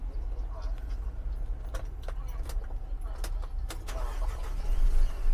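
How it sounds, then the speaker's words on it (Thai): An Isuzu 400 diesel truck engine starts with a few sharp mechanical clicks and then settles into a quiet, steady low idle. Faint cab rattles can be heard, and the rumble grows slightly at the end. "สตาร์ทเครื่องแล้วนะเงียบไหมคะ"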